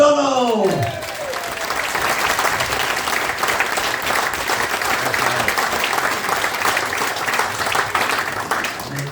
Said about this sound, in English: Will you give a big round of applause for Mr. Niall O'Donnell?